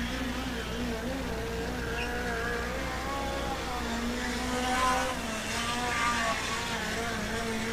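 A Toyota-powered USAC midget race car, number 67, on a dirt-track qualifying lap at Red Dirt Raceway, its engine droning with a rising, wavering whine that swells and fades as it circles, heard under an announcer talking.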